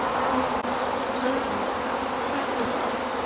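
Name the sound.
honeybees buzzing at a hive being split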